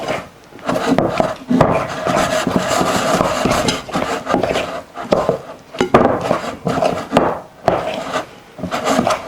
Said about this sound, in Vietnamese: Giờ trộn nó cho nó đều lên